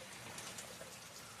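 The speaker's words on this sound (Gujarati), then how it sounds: "વરસાદ ચાલુ છે।" Rain falling in a village, a faint, even hiss of drops on surfaces with occasional soft bird coos in the background, steady and quiet throughout.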